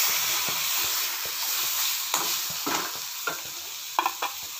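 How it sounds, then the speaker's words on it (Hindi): Masala roasting in a pan while it is stirred, with a constant hissing sizzle and scattered close scrapes and knocks of the spoon against the pan, steady and near, with no voices. "अच्छा से भूनेंगे, 5 मिनट तक भून लेंगे इसको हम।"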